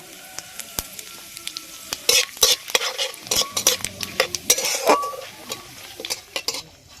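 Dried red chilli, bay leaf and Bengali five-spice crackle and spit in hot mustard oil in a kadai, bursts of sizzling popping with clinks of a spoon against the pan, close and lively with no talking.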